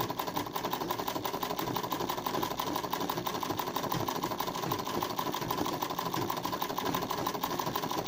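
An embroidery machine runs steadily, stitching a chain stitch with a fast, even mechanical whir and rattle that stays constant throughout, loud and close with no talk.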